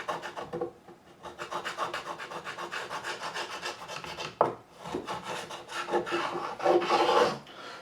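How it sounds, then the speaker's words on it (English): A file rasping along the truss rod channel of a Warwick Corvette Double Buck bass guitar neck, steady rhythmic back-and-forth strokes close up, with one sharp knock midway and slightly louder strokes toward the end. "it's a lot easier than scraping, wasn't it, using a file"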